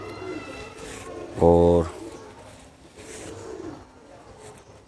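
Pigeon cooing while being handled, one short throaty coo in the middle, close by, with someone talking quietly around it.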